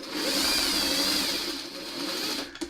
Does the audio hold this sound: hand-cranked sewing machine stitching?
yes